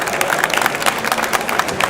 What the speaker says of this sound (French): demande un tonnerre d'applaudissements tout de suite pour Christophe Bourgoin Constantini